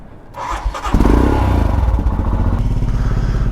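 Motorcycle engine cranking and catching, then settling into a loud, close, lumpy idle with a rapid steady thumping pulse, no voices over it.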